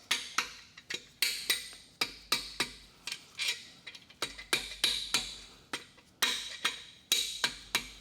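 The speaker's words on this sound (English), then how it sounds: "grab a plastic hammer and just tap, bring the bolt out a little bit and just tap it back and forth" Light, rapid tapping of a plastic hammer on a bolt in a Ford 5.4L 3V engine, in quick irregular bursts of sharp knocks, close up with no talking.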